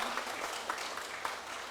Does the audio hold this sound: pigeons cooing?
no